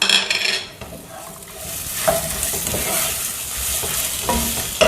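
Onions sizzle loudly in a hot pan while being stir-fried for sambar, with occasional scrapes of a utensil against the metal.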